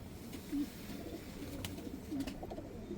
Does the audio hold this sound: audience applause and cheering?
no